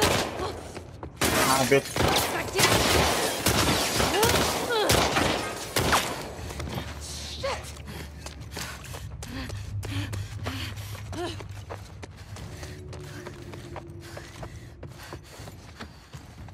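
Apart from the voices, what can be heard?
gunfire in The Last of Us Part 2 video game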